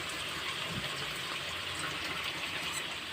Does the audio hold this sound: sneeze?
no